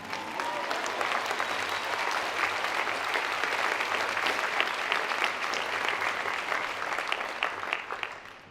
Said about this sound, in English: This is where you clap.